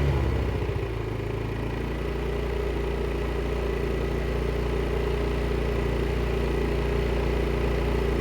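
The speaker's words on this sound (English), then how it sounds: "So the engine did wind down." A Predator 2500 inverter generator's engine settles from a brief higher clatter into a quieter, steady low hum as it winds down, running close by and alone for several seconds.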